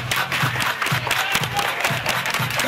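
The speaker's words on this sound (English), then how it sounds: "Everybody clap your hands" Wedding guests clapping hands in rhythm during a dance-off at a reception, steady repeated claps from a crowd mixed with background music and chatter.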